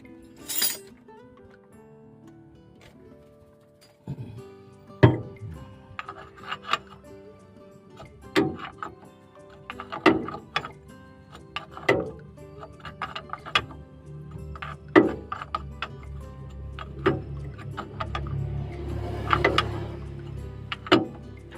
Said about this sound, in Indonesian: kita kencangkan pakai kunci 24 lagi.